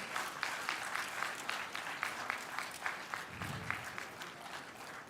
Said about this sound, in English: The applause should keep coming